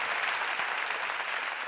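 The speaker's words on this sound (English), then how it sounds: "Another round of applause for Oriel, Shania, and Savannah, everyone." An audience at the Sydney Peace Prize lecture and award ceremony gives sustained, dense applause, a steady wash of many clapping hands filling the hall.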